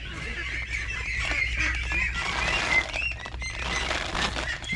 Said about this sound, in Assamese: এইটোৱে হ'ল মোৰ হাঁহৰ গঁৰাল আৰু ইয়াত হাঁহ প্ৰায় 130টামান আছে